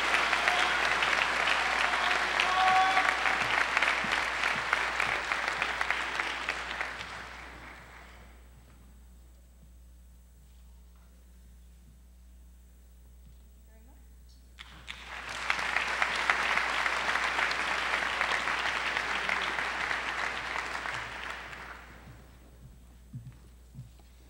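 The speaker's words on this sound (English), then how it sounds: "Let's give these two a round of applause for being the Army Reserve Scholar Athlete" An audience at a Har-Ber High School senior celebration claps for the Army Reserve Scholar Athlete recipients in two full bursts of applause separated by a quiet gap, the second swell rising as strongly as the first.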